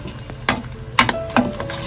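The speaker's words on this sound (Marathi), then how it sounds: "आता हे ना आपला वाटप केलेला मसाला घालून घेते. त्याला पण चांगला परतून घ्यायची." Ground masala paste stirred and frying in a hot pan for karli fish curry, with soft sizzling and a few scraping stirs and light clinks of the spoon, close and alone.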